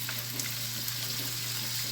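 Turkey meat cooks in a pan with a dense, even sizzle and crackle, steady and close throughout, over a low constant hum.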